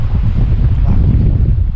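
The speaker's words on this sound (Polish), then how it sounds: "wiatr silny, ale ciepły" Strong, warm wind on Tenerife at Candelaria buffets the microphone in a steady, loud low rumble throughout, with no voices.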